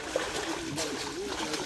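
Big brackish-water fish, likely jitada, thrashing at the surface of a pond while being hauled in with a net, a few faint, quick splashes heard over quiet outdoor ambience and talking.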